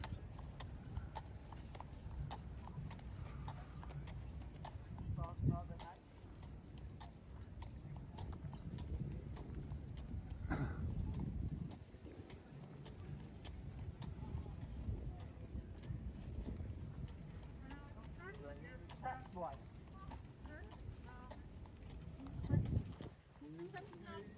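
Carriage horses in Central Park clip-clop along steadily on pavement outdoors, their hooves sounding under near, continuous talking, with light wind buffeting the microphone.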